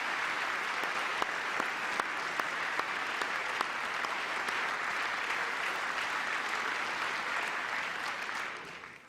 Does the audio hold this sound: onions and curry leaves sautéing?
no